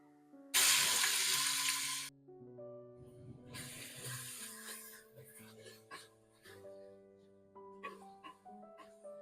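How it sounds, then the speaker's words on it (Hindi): Onions frying in hot oil in a pressure cooker while a meat curry is being cooked: a loud, close sizzle bursts out at first, then settles into a softer crackle with clinks and stirring sounds. "प्याज को सॉफ्ट होने तक फ्राई करेंगे।"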